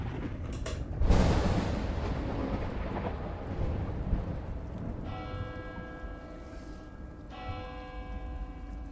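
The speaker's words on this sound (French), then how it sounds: "La cloche sonne bien 16h30 là" In an episode of the Sword Art Online anime, a resonant bell rings twice in sustained metallic tones, heard over a low rumbling, stormy background with no talk.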